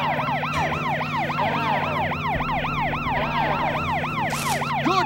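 A police car siren from the GameCube game Tonka Rescue Patrol wails in fast, rising and falling cycles, loud and continuous over a steady engine-like drone, with no one speaking.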